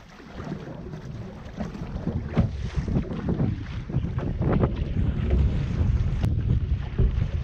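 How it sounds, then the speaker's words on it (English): Wind buffets steadily across open water while paddling on an exposed stretch during a wilderness camping trip, a continuous loud roaring rush with microphone gusts and faint water movement underneath, no voices. "It's gonna be a long paddle, exposed to the wind now."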